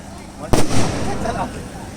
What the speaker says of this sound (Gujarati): અને આતશબાજી